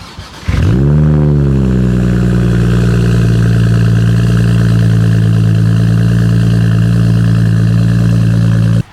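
A BMW X3 M's engine starts up and runs loud and close, a deep steady drone holding throughout before cutting off at the end, with no voices.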